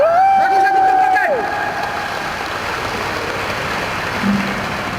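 An audience at an agents' motivational event claps in a broad, even wash that follows a short tonal musical sting, the crowd noise continuing steadily at moderate level.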